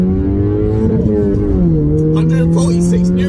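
A Toyota Yaris T-Sport with VVTi engine accelerates hard, its loud close engine note rising in pitch, then dropping with a gear shift and climbing again.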